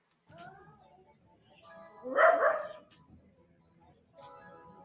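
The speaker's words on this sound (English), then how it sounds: "the little one looked back at her, took one look at her, and starts barking" A small dog gives a short burst of yapping barks near the middle, close and fairly loud, with quieter speech and background voices before and after, outside a Buddhist temple in Pattaya, Thailand.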